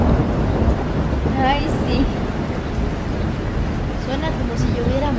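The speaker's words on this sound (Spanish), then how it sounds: "Suena como si lloviera mares, ¿verdad?" Heavy rain pours steadily with rolling thunder rumbling through, filling the whole stretch in a dramatic short-film storm scene; a voice briefly murmurs over the downpour.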